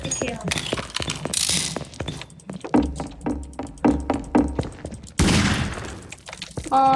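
Rapid bursts of gunfire in Garry's Mod Minecraft, fired in quick volleys with sharp clicky reports, loud and close, with a brief pause before a dense final flurry.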